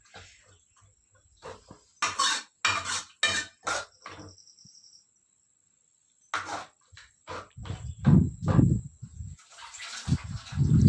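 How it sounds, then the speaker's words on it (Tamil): Green chillies being stirred into a batter in a pot, giving irregular wet scraping and sloshing bursts close by, with quieter pauses and a thicker, louder stretch of mixing toward the end. "அதையும் போட்டு நல்லா மிக்ஸ் பண்ணிகிட்ருக்கேன் பாருங்கள்."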